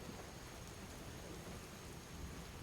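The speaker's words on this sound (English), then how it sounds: "I've had enough of this rain." Steady, fairly quiet rain in Skyrim, an even continuous hiss of rainfall with no pauses and no speech.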